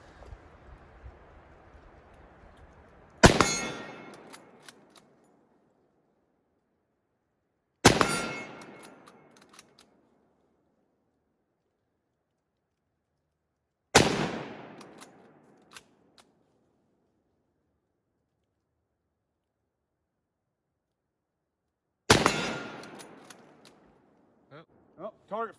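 Four loud, sharp rifle shots from a Mosin Nagant M91 / Finnish M24 in 7.62x54mmR, fired outdoors several seconds apart, each with a brief echoing decay, after a stretch of quiet talk.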